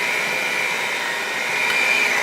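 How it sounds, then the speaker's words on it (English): An electric mixer runs on its lowest speed, mixing cookie dough with a steady close whine and hum that holds even throughout, with no talking. "We'll grab our mixer, speed number 1."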